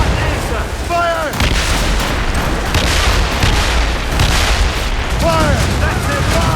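Ship cannons fire in a naval battle in Assassin's Creed Rogue, heavy booms and rumbling volleys filling the mix loudly throughout, with shouted voices rising over the din.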